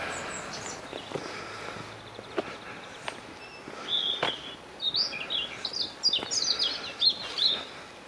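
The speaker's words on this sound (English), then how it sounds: "Birds are singing nicely in the trees to my left." Birds sing in trees beside a trackside path by a railway at Watchet, bright chirps and short phrases, faint at first and then closer and more frequent, over quiet outdoor ambience with occasional footsteps.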